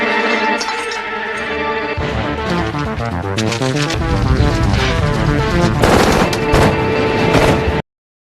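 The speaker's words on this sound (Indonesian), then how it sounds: "Tapi tak lama Jacob menyadari dan langsung menembaki mereka." Gunfire in an action film scene, heavy and dense like machine-gun fire, blasting continuously for about eight seconds within a loud, busy soundtrack.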